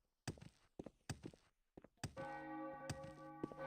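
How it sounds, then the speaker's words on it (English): In Morrowind, a church bell tolls inside the game after several dull thunks like footsteps. The ringing tone lingers, loud and close, and stays resonant to the end. "Hey, there's a bell."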